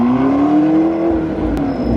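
A McLaren sports car's engine idling and lightly pulling as it backs off a trailer, a steady close drone with a slowly rising tone, loud and continuous without talk.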